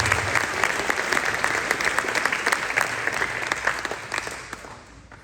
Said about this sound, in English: And I like to give these guys a big round of applause.